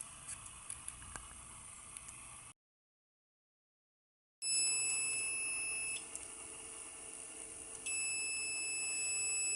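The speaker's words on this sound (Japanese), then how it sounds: "バッテリー電圧が 22V、停電圧アラームがかかっています" An imported hybrid inverter sounds its low battery voltage alarm: steady high electronic beeping tones, fairly faint, cutting out briefly and then resuming with an added second tone.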